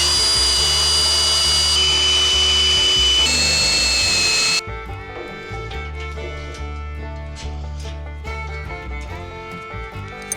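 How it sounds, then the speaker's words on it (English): A power drill boring 1/4 inch holes for bolts while a boom sprayer is being built, a loud continuous whine that shifts pitch in steps, then gives way to a steadier, quieter hum with scattered clicks. "All right, let's drill these out."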